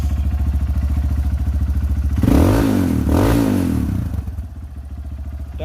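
A racing motorcycle engine, back running after its dynamo was replaced, idles with a rough, pulsing throb close by, then revs up briefly before settling back to idle.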